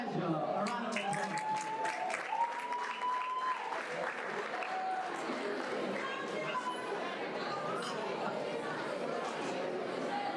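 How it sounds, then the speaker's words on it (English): Audience applause for a contestant from Edison at a head-to-head pageant, steady clapping filling the whole span with crowd chatter and some voices mixed in. "A round of applause."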